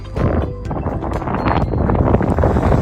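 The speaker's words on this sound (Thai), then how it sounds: "ฝนตกแล้วยังลมแรงอีกนะคะ" Strong wind buffets the microphone with a constant, heavy roar, broken by scattered gusts and patter of rain, at Great Sand Dunes in Colorado.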